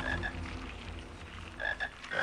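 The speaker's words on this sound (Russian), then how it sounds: "Жаба." A toad in the Harry Potter and the Sorcerer's Stone video game croaks in a few short rasping calls, moderately loud over a low game ambience, with no talking.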